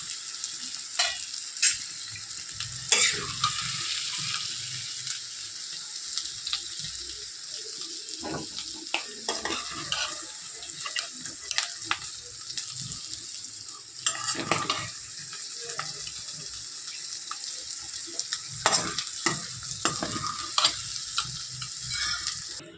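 Potatoes and peas fry in a pan, making a soft, steady sizzle. Occasional scraping and stirring knocks come from a utensil moving them around, close up, with no speech.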